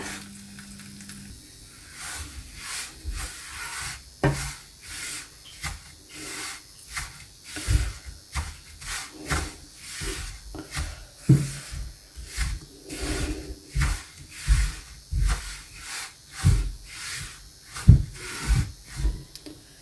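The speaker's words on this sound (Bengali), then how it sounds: "সুজিটাকে 8 থেকে 9 মিনিট ভেজে নেব।" Semolina fries and is stirred in a pan for halwa, producing faint, irregular scraping and soft hissing strokes from close by against a quiet kitchen background, with no speech.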